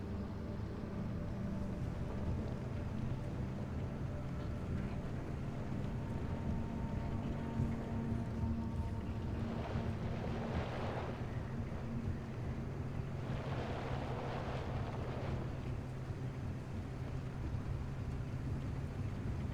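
A car in the game Pacific Drive makes a constant low engine and road rumble under a windy rush of noise, and the sound stays even throughout.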